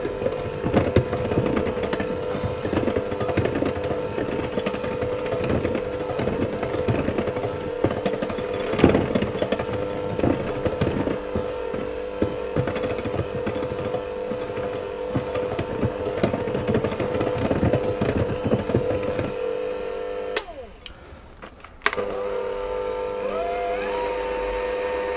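An electric mixer whirs steadily while blending almonds into a Maids of Honour tart filling, a continuous motor drone with rattling texture that cuts out briefly near the end, then resumes.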